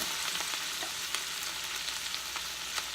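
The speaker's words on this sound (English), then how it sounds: "now I'm going to add in my onion, my celery, and my cabbage, and I'm going to let that brown" Onion, celery and cabbage frying together in a pan for cabbage stew, a dense, even sizzle with faint stirring ticks, close and continuous with no talk.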